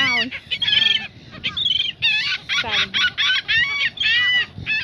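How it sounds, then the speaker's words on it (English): Seagulls squawk excitedly over a few nuts thrown out at a Gulfport, Florida shore, a dense chorus of loud, close, overlapping cries, with a little talk underneath. "They're all getting crazy because we threw a couple nuts out there. What kind of birds? They cleaned it up. These are seagulls."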